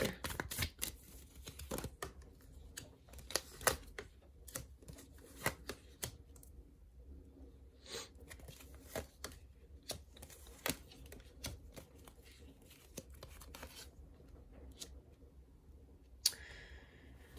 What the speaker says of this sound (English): Let's pull out a few more cards and see though.